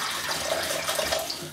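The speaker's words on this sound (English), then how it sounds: "Just gonna fill this up with water." Water runs from a tap into a bowl, a steady close splashing hiss with a faint rising ring as it fills.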